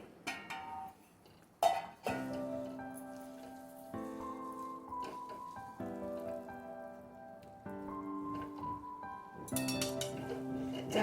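Sesame seeds and peanuts are stirred in a pan over low heat for sesame ladoo, making a soft pattering, rattling scrape with occasional metallic clinks of the utensil against the pan, steady and close, over faint musical background.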